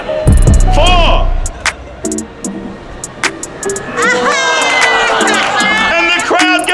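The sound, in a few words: crowd cheering at a street magic show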